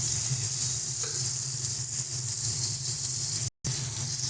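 Tomato pieces go into a pan of frying cabbage and prawns, giving a steady close sizzle with soft stirring scrapes throughout and a brief dropout near the end.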